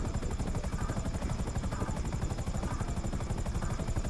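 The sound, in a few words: helicopter in a video game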